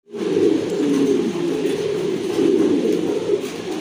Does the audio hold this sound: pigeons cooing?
yes